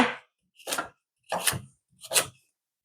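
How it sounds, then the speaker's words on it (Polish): Peeled vegetables such as parsley root being chopped into smaller pieces for an autumn pumpkin soup: four distinct knife chops on a board, spaced about half a second apart, close and crisp with silence between. "Jak warzywa obrane, kroimy znowu na mniejsze części."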